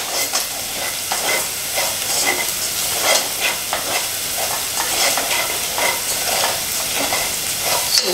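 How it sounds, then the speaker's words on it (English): Spices sizzle and fry in a pan for a chickpea curry while being stirred steadily, a continuous close hiss broken by scraping stirring strokes, with no talking. "once your spices have cooked for about 2 minutes, keep stirring it so it doesn't burn, doesn't stick to the bottom of the pan"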